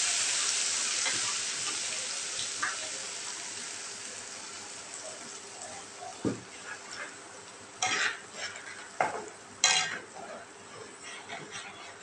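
Ginger, garlic, onion, mustard and chillies sizzling in mustard oil with hilsa fish, a hiss that fades over time, punctuated by several sharp spoon-against-pan scrapes and clinks as the mixture is stirred.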